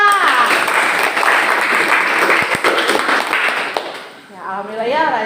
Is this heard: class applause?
yes